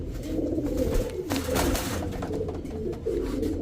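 Danish Magpie pigeons coo continuously, close and fairly loud over a dense low background rumble, with no talk.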